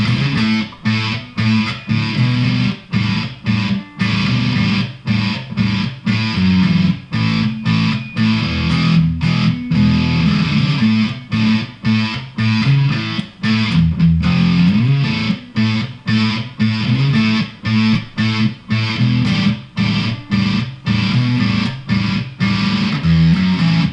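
An electric guitar runs through a Keeley-modified Boss DS-1 distortion pedal, loud and continuous, with thick, saturated chords strummed in a steady rhythm and brief choppy gaps, played alone without talk.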